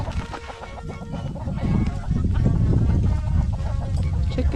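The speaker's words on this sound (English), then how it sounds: "Chickens in the snow." A small flock of homestead chickens out in a snowstorm clucks and squawks in a busy, overlapping chorus, fairly close and steady throughout.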